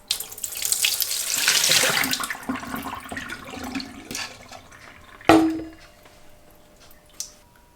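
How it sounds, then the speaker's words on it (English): Water pours and splashes out of a tipped whole-house water filter housing into a sink, a loud gush that tapers off, followed by a sharp plastic clunk and a few fainter knocks and drips. "I'm just going to dump the water out of the housing and throw the filter away."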